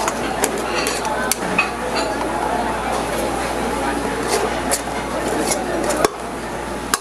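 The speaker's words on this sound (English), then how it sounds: "I'm gonna scoop all the rice out from the pot" Cooked black rice scooped from a pot into a tray, with scattered metallic scrapes and clinks of a utensil against the pot over a steady background, while a person talks.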